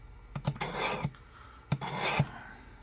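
Knife edge drawn through a carbide sharpener, several short raspy scraping strokes in two quick bursts, close and fairly quiet, with no talk.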